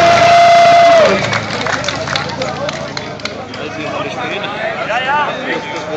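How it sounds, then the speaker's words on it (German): At the Glasbachrennen hill-climb race, a crowd applauds and cheers loudly, a dense, continuous clatter of clapping and voices after a sustained tone fades, with someone talking over it throughout. "da haben wir mal einen Beifall"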